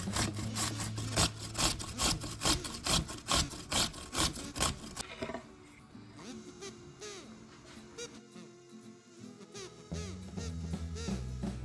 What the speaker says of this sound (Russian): натрем на крупной терке огурчик